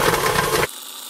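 An electric mixer blends Oreo cheesecake batter with a loud, steady motor whir close by. The whir cuts off abruptly after about two-thirds of a second, leaving only faint room noise.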